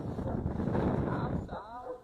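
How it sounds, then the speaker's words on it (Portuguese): Wind buffets an outdoor microphone in a steady low rumble for about a second and a half, fading as a voice briefly sounds near the end. "eu vi que o vento começou a bater, vai dar eco aqui no microfone"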